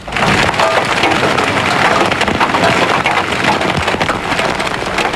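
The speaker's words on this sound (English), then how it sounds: "This is video of peat and marble-sized hail that hit near Union." Pea- and marble-sized hail pelting down near Union, Missouri, during a 2003 bow echo storm, a dense, loud, continuous patter of hard strikes with scattered sharper clicks and no voices.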